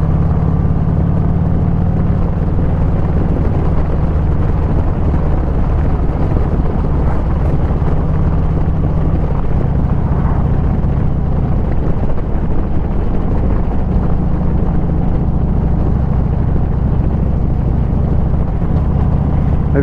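A Harley-Davidson motorcycle climbs a mountain road in Scotland, its engine a loud continuous low rumble mixed with heavy wind buffeting on the microphone, with no talking.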